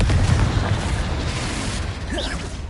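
The Confringo fire spell from Hogwarts Legacy bursts as a short, moderately loud blast with a crackling whoosh, fading over a couple of seconds amid background game ambience.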